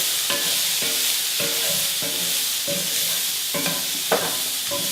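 Green beans sizzle steadily in a hot pan while being stirred, with regular scraping strokes of the utensil against the pan repeating about every half second over the constant frying hiss.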